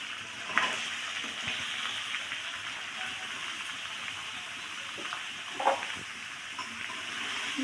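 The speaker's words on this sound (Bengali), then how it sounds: "দিয়ে মশলা কাঁঠাল একসঙ্গে সুন্দর করে কষিয়ে নেব।" Raw jackfruit, boiled beforehand, sizzles with spice masala as it is sautéed for the jackfruit dish, giving a steady frying hiss with two brief louder scrapes of stirring and no voices.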